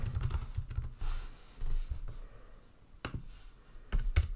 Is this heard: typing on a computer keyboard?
yes